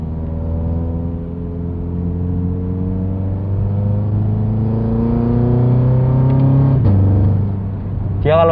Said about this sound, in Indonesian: Dia kalau pas ngoper sekitar RPM 4000 gitu kayak ada suara nembaknya sih kalau pas kita pakai triptoniknya.